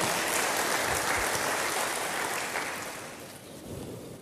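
Church congregation applauding, a broad, dense wash of clapping that stays loud and even before tapering slightly toward the end.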